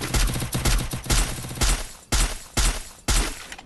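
Rapid bursts of gunfire in a battle royale video game, several loud, close volleys of automatic shots separated by short pauses, with no voices.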